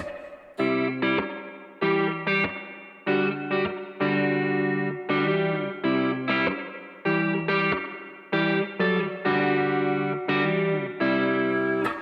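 Electric guitar played in strummed chord bursts with added reverb and no tremolo, a singer-songwriter style part, the rhythmic chords ringing out and fading into a roomy tail between strokes, loud and close with no voice.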